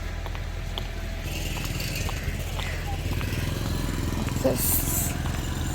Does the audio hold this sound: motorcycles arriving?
yes